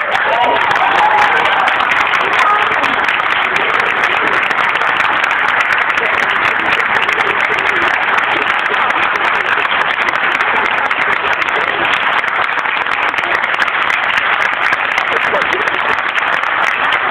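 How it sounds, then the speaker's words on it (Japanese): An audience at the Istanbul Japanese Speech Contest gives the prize winners long, loud, dense applause that holds steady for the whole stretch. "Eカテゴリーの入賞者の皆様に、もう一度大きな拍手をお願いいたします"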